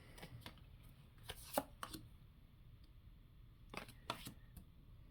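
A tarot deck being shuffled: bursts of quick, crisp card riffles and slaps, close and fairly quiet, spaced out with short pauses.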